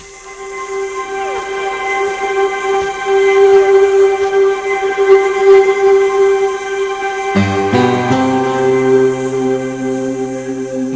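A train runs along a railway line in India, giving a steady tonal hum and rumble that shifts abruptly to a deeper, heavier rolling sound partway through.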